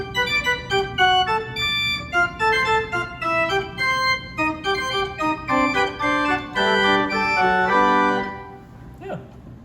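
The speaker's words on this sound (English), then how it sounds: "So full grate sounds like this." A small pipe organ on full great registration plays a run of bright, loud chords alone, each chord sustained and detached in a steady rhythm, then releasing into a short decay with a faint click.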